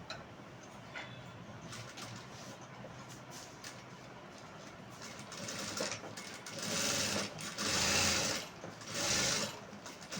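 Sewing machine stitching the inner side of a blouse patti piece, a steady mechanical whirr that swells louder in bursts near the end, with no talking.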